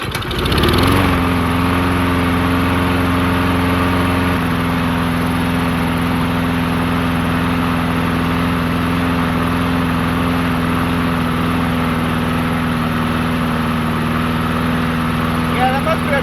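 An old Murray push mower engine fires up and settles into a loud, steady running drone up close, holding unbroken for the whole stretch with a slight shift in tone early on.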